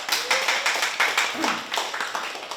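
An audience at a lecture claps in quick, irregular bursts of hand claps, fairly close and lively, with no talking over it.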